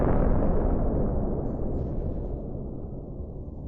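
The blast of an exploding Russian Buk M1 missile system: a broad, heavy roar that slowly fades over a few seconds with no voices.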